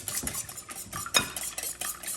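Six eggs whisked in a bowl for a Thanksgiving side dish, a steady run of quick clinking, scraping strokes with no talking.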